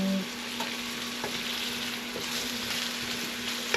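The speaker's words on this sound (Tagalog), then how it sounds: "Ngayon, nagigisa na po siya ng sibuyas, bawang" Onion and garlic sizzle steadily in hot oil as they are sautéed for vegetable spring rolls, with faint stirring scrapes over the continuous frying hiss.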